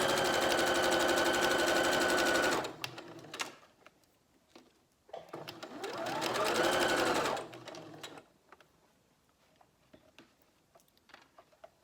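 A sewing machine stitches bias binding onto fabric for a Christmas placemat in two loud, fast, even bursts, each lasting a few seconds. Quiet pauses between the bursts hold small handling clicks.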